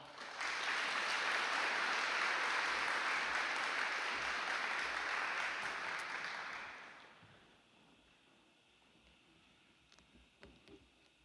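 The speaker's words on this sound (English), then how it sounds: "let's give everyone a round of applause when they come up on stage" At the Cotulla High School National Honor Society induction and hooding ceremony, an audience gives a steady round of applause for about seven seconds, then it fades to a quiet room with a few faint stray sounds.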